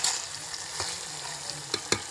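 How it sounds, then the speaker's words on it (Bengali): Meat braising in a pot at a night-time picnic gives a constant low sizzle, with a few short sharp stirring scrapes near the end. "মাংস কষানো চলছে এখনো"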